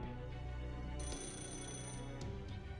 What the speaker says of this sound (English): Was that the phone?